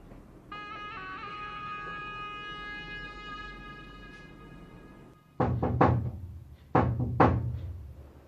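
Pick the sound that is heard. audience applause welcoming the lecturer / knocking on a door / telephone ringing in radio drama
knocking on a door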